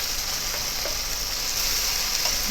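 Mushroom sauce for penne pasta sizzles steadily in a pan, an even, close frying hiss with faint stirring touches and no talk.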